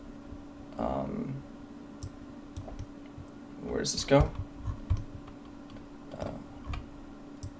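Computer mouse clicks while shift-clicking nodes in Blender 2.90.1 during a live shading session: a few sharp, quiet clicks scattered over several seconds, with a person speaking over them.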